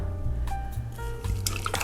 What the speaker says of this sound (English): pour some water over that